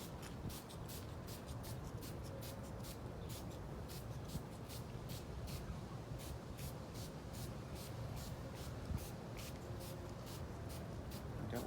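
A spray bottle mists soapy solution onto a vinyl decal in a rapid run of short, evenly spaced spritzes, quiet and close, over a faint hiss.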